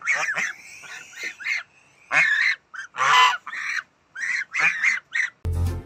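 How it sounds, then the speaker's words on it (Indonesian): A goose honks repeatedly up close, loud nasal calls coming in quick bursts separated by short gaps, followed by a brief burst of other noise at the end. "lihat, kakak menemukan seekor angsa teman-teman."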